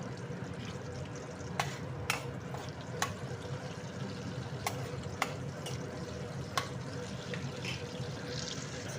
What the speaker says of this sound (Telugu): కొంచెం గోల్డ్ కలర్ వచ్చేదాకా వేపాను